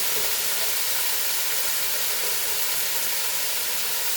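Cabbage sizzling in a hot pan on a high flame, a steady dense hiss that holds evenly without breaks, fairly loud and close, with no talking.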